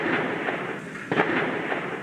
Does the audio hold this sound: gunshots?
yes